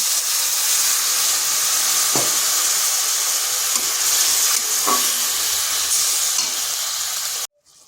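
Turmeric and other ground spices sizzle loudly in a hot pan as a little water is splashed in, giving a steady hiss with a couple of brief sharper crackles, then cutting off abruptly near the end.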